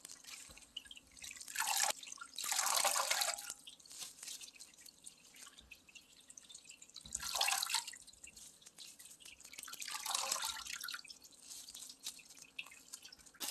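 Water drains and drips from freshly rinsed Sorae port shrimp sitting in a basket, heard as four separate close splashy trickles spaced a few seconds apart over a quiet background, with no talking.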